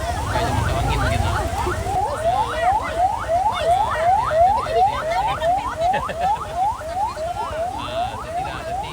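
A fast, whooping ambulance siren wails continuously and loudly, its rapid rising chirps repeating over heavy traffic-jam rumble and background noise on a flooded road in Tarusan, Pesisir Selatan.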